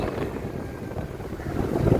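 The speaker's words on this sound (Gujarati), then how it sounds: "ઠંડો પવન આવે, બહુ તડકો લાગે છે એમ કહો" Cold wind buffets the microphone outdoors in a continuous low, gusty rumble that swells louder toward the end, with no voices.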